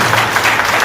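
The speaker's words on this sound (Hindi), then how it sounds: "जोरदार तालियां की" Audience applause at a company speech event, a dense steady wash of many hands clapping together, fairly loud and continuous through the brief moment, with no voices on top.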